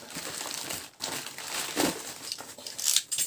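Plastic packaging of a large parcel crinkles and rustles in uneven bursts while unpacking a Wi-Fi 360 camera, close and fairly loud, with brief pauses between handlings.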